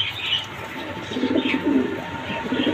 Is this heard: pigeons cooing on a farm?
yes